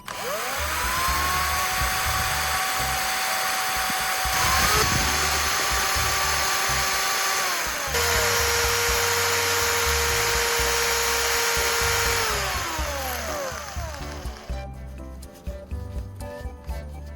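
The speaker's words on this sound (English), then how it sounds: "Next, I'll grind the battery core to shape it into a fine soldering tip." A battery carbon core is ground into a soldering tip with a small rotary tool, giving a steady, loud high-pitched whine that drops in pitch under load and ends in scattered clicks as the tool slows and stops.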